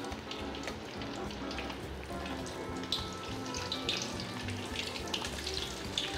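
Flour-coated crab dropped into hot oil for a Korean spicy-sauce stir-fried crab, giving a dense, steady crackle and sizzle that runs the whole time, close and even, with no talking.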